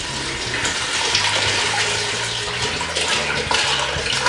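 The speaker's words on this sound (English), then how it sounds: "when we pour our sterilant back into our 4-liter container, we're going to be sanitizing and sterilizing the outside of the racking hose" Sterilant for home winemaking is poured back into a 4-liter container, a steady splashing, gurgling flow of liquid that runs continuously and fairly loud, with no talking.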